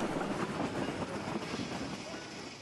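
The Durango & Silverton steam train Eureka rolls along the line toward Hermosa, its steady rumble and rattling carriages forming a continuous, even wash of noise heard from fairly close, with no distinct whistle.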